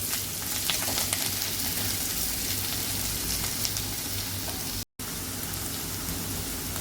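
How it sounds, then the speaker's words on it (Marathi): Chopped onion frying in hot oil for a crisp aluvadi recipe, a steady close crackling sizzle running throughout with a brief dropout near the end. "कांदा हा आपण चांगला तेलामध्ये फ्राय करून घ्यायचा"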